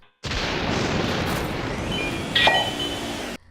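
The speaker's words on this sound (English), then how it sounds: "the occasional bit of lightning strikes and ambience." Thunder from a lightning strike in the video game Luigi's Mansion: a sustained, loud rumbling roar lasting about three seconds, with a brief sharper crackle near the end, heard alone.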